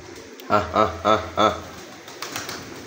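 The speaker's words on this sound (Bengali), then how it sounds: "সবগুলো কবুতর এসে পড়ছে" Pigeons coo in the rain, giving four rhythmic, throaty pulses up close, followed by softer, scattered sounds against a steady wet background.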